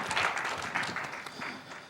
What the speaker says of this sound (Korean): 혹시 박수 한번 쳐주실 수 있으세요?